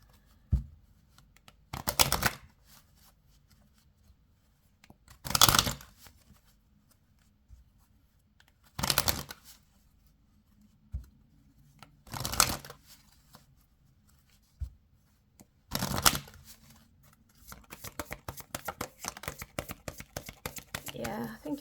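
Oracle cards shuffled by hand in five distinct, close riffling bursts separated by quiet pauses, followed by a run of rapid card flicks and taps at the end.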